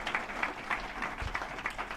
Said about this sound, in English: I think we should give a round of applause for Seattle Southside Chambers of Commerce